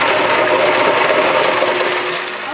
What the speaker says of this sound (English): Now we're going to blend all those ingredients together.